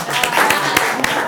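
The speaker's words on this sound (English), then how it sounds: "Clap and don't stop clapping." Sustained clapping from a gathered audience in an indoor meeting room, steady and fairly loud, with scattered sharper hand claps and a few voices mixed in.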